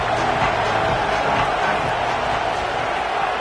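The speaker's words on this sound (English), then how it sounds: "Looking to this crowd, and they are delivering energy on this big third down." A stadium crowd roars steadily through a big third down in a football game, a continuous dense wash of cheering voices with no breaks.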